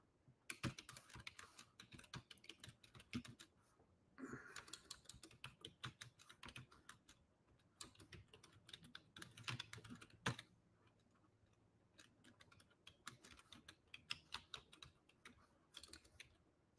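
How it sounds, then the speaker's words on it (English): Typing on a computer keyboard sounds as close, quiet clusters of rapid clicks in irregular bursts with short pauses between them. "If I can type."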